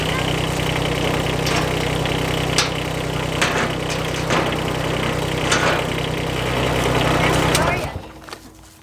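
A brand-new mini excavator's engine idles nearby with a steady, even drone and a few light knocks, then the sound drops away abruptly near the end.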